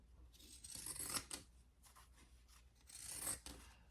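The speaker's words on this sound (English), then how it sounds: "I am going to use my pinking shears." Pinking shears cut through cotton fabric in two separate passes, each a crisp, crunching series of snips up close, with quiet pauses between and no talking.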